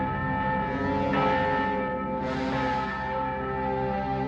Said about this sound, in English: Another scary bell.